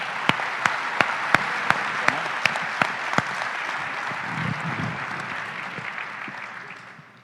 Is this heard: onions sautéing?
no